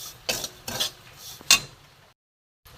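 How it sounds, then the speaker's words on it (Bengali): Semolina frying slowly with milk in a pan over low heat, heard as a few scraping stirs of metal against the pan, then a sharp clink, then a brief silence. "ভালো করে ভাজবো এটাকে।"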